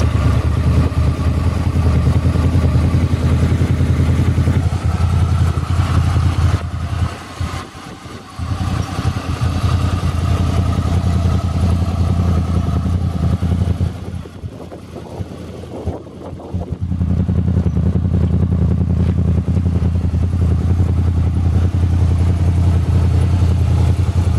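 A 2003 Honda VFR800 V4 motorcycle engine idling, a loud, close, steady low rumble that dips briefly twice.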